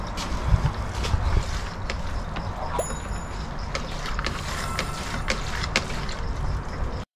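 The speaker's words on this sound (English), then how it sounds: "So you basically just pump it a couple times and it starts bringing all the sud from the ground" An aquarium gravel vacuum cleaner is worked by hand over a tank bed of gravel and soil, making repeated mechanical clicks and pumping clatters over a constant close watery hiss.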